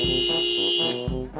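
A car horn honks in repeated blasts in a street scene, loud and close, with short gaps between the toots.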